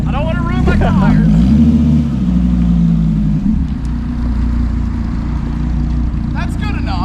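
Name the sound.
Dodge Viper ACR-E engine revving doing donuts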